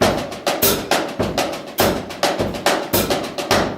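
Drum strokes in a steady stream of 8th notes, loud and close, with every third stroke hit noticeably harder so the accents fall in a rolling three-note pattern.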